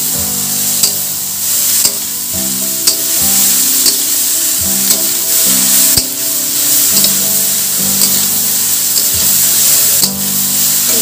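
Chopped ash gourd (chal kumra) sizzles and fries steadily in a hot pan, with a continuous crackle broken by periodic stirring clanks and scrapes at a regular rhythm, close and fairly loud with no voices.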